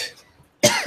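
A single sharp, close cough from a sick person bursts out after a near-silent pause, following a faint trailing bit of voice.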